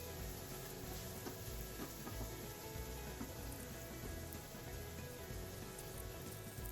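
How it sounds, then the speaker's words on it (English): Onions and green chilies, seeds left in, fry steadily in a pan as the base for a yellow mustard sauce for sea bass, giving a dense, continuous close sizzle with small crackles and no talk. "Now you want to fry it for some time until you get this nice golden caramelization on the onions."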